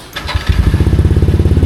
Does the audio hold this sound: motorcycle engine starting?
yes